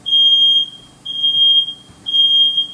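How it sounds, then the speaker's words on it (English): Smoke detector shrieks in three long, piercing beeps with brief gaps between them, loud and close in a kitchen where steak is being cooked in a hot oven. "Silence that smoke alarm"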